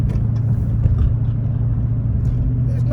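A 2021 Dodge Challenger R/T's V8 engine rumbles at a steady, close idle or cruise, deep and continuous with no clear revs, under a speaking voice.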